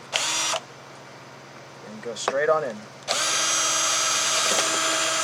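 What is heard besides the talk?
power drill drilling holes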